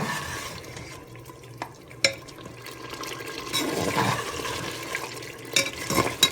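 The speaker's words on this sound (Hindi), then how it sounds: "मसाले भी भून गए अच्छी तरह।" Spices sizzle as they are sautéed in a pan for masala chops, with a steady hiss, scattered stirring scrapes and a few sharper clinks; no one speaks.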